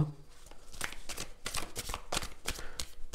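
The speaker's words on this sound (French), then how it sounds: "On va juste prendre une autre carte." A tarot card drawn from the deck gives quick papery riffles and flicks, a run of short crisp bursts at close range, fairly quiet.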